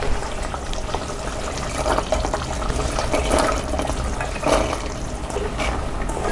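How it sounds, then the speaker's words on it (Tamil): Soaked kidney beans are poured into simmering rajma gravy in a pan, giving a continuous wet sizzling and sloshing with a few louder splashy bursts, close and alone without speech. "இப்போ நம்ம ஆல்ரெடி ஊற வச்சிருக்கிற ராஜ்மாவை கொட்டிக்கலாம்."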